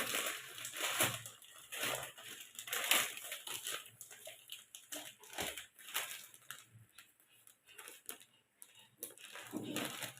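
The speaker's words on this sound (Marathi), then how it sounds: "आता ब्रेड फोडून घेते" Crackly, crunching tears come close-up as bread is broken apart by hand for an egg bread recipe. The bursts are repeated and irregular, quiet with no talk.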